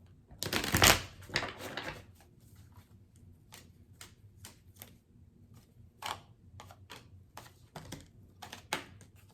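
Tarot cards being shuffled: a loud riffling burst at the start, then scattered soft flicks and slaps of cards handled in short bursts, close by, with no speech.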